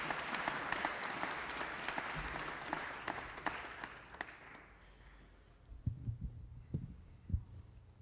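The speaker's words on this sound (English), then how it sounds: "let's give all of our speakers just a round of applause." An audience applauds the speakers at a community discussion event, a dense wash of many hands clapping for several seconds that fades out, followed by a few low thuds and handling bumps.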